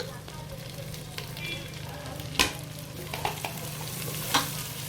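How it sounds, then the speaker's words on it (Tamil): Three large sliced onions sizzle steadily in hot oil in a pot for Ambur chicken biryani, with occasional sharp scrapes and knocks of a spoon as they are stirred close up. "பெரிய வெங்காயம் ஒரு 3 வெங்காயம் அரிஞ்சு வச்சுருக்கேன். அதை உள்ளே போட்டுக்கலாம்."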